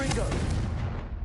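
A Confringo blasting spell explodes in the video game Hogwarts Legacy, a close, heavy boom that rumbles briefly and then dies away.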